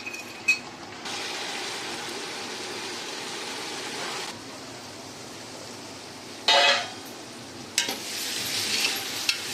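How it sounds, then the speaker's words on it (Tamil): Onions sautéing with rock salt in a pan for mutton paya biryani: a steady close sizzle that swells into louder hissing stretches, with brief stirring scrapes and clatters. "அது வரைக்கும் நல்லா பொறுமையாக வெங்காயத்தை நல்லா வதக்கி எடுத்துக்கணும்"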